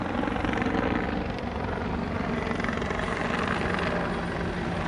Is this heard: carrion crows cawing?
no